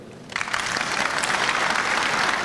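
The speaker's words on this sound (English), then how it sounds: "Please have a warm round of applause for Ocean County Commissioner Bobby Joe Cray" An audience at a veterans awards ceremony bursts into applause after a brief moment of quiet, the clapping rising quickly and holding steady and full.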